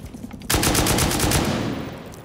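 Rapid burst of automatic gunfire in a survival shooter raid on a wooden base, shooting open loot boxes; loud, dense, evenly spaced shots start abruptly and continue for about two seconds with no talking.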